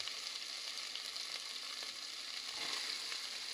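Vegetables for khichdi sizzle in a pan as a soft, continuous hiss, with faint stirring clicks here and there and no voices.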